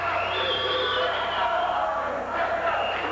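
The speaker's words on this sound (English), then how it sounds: "The crowd trying to get our Lions pumped up." A crowd in a school gymnasium roars and cheers throughout a 1987 Leamington Lions high school basketball game, a dense, continuous wash of voices and yells carrying at steady volume for the whole stretch.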